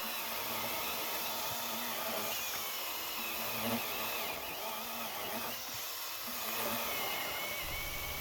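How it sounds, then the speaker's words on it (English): A Makita pruning saw cuts through wood with a steady, whining motor buzz and rasping chatter that holds fairly even throughout, at moderate volume and close by. "I haven't put any downward pressure on either tool and have just let them cut through on their own"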